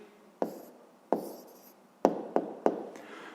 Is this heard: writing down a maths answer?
yes